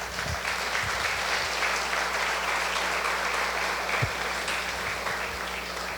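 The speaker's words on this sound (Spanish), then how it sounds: "Te voy a pedir un aplauso para la directora" A church congregation at a Sunday school service applauds, a steady, sustained round of clapping from a room full of people, moderately loud and continuous throughout.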